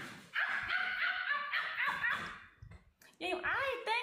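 A person imitates a dog with a string of yappy, barking cries, loud and close, repeated several times in bursts with short gaps between them.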